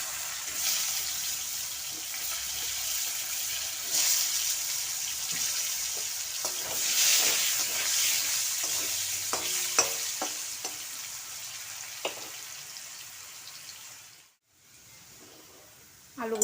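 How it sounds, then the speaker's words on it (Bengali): Potatoes frying in oil in a home kitchen, a continuous close hiss and sizzle with scattered spatters and stirring knocks, easing slightly before a brief pause near the end. "এখন আলু ভেজে নেব।"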